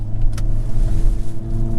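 A 2022 Hyundai Kona N in N mode accelerates onto a highway, its engine a steady, loud, close drone with road roar that holds level throughout.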